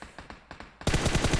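Machine gun fire in the mobile game PUBG Mobile during an esports scrim: a few spaced shots give way to a fast, loud, continuous automatic burst, close and alone with no talk.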